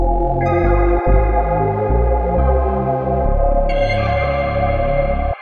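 A synthesizer run through reverb and amp-style distortion in a future garage production plays sustained, shimmering chords that shift every second or so, with a brighter upper layer entering near the end before cutting off.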